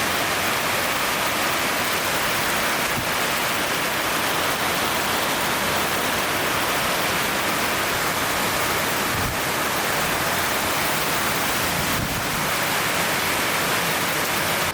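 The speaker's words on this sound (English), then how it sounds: "it's so windy, pouring rain" Strong wind and pouring rain in the Maldives, a dense, unbroken roaring hiss of heavy downpour and gusts, loud and constant from start to finish.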